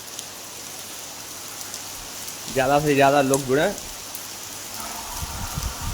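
Steady rain falls over a village in the early morning, a constant soft hiss of drops on surfaces, with someone speaking briefly over it partway through.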